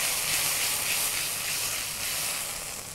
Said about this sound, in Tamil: அடுத்து சில்லி பேஸ்ட்டு, அப்புறம் நல்லா வதக்கணும்.